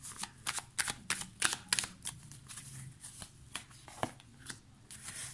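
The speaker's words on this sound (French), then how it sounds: "On va tirer 3 dernières cartes" Tarot cards shuffled and drawn from a deck by hand, a run of crisp close riffling flicks and slaps in irregular bursts, with no talking.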